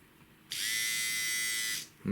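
Men's rechargeable electric trimmer for ear, nose and beard switching on and running with a steady high buzzing whir for over a second before cutting off, close and alone.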